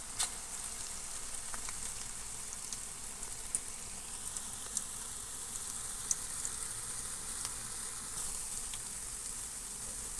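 Punugulu fritters made from idli batter fry in hot oil with a steady, even sizzle and faint occasional pops, close and continuous without any talking.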